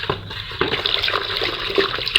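Water poured into a container to dissolve a dried chemical while making homemade liquid soap, a steady close splashing and trickling rush that runs throughout.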